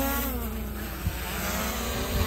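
A camera drone flies over a forest, its steady whining buzz of rotors filling the air with a dense harmonic drone that holds constant throughout, fairly loud and close.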